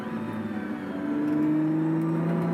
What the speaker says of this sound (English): The V12. Tickle the throttle.